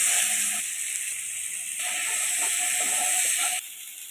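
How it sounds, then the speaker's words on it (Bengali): Cut pointed gourd pieces sizzle in hot oil in a pan, a steady close hiss throughout that drops slightly in loudness near the end. "কেটে রাখা পটলগুলো দিয়ে দিলাম তেলের মধ্যে।"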